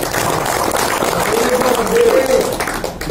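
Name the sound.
audience applause for Ibu Cartem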